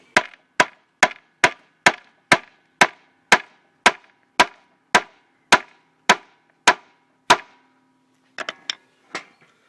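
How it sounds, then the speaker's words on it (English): Four-pronged steel T-nuts are struck into plywood panels with a mallet: about sixteen sharp, evenly spaced woody knocks in a steady rhythm, close and loud, then a short pause and a few quicker taps. "I just tap them in with a mallet"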